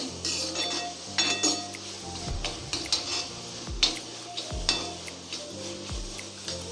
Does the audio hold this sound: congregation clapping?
no